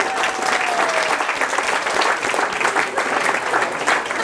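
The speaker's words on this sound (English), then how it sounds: "Stand up and take a round of applause then" Loud, dense applause from a gathered audience, continuous and even for several seconds, close and filling the room.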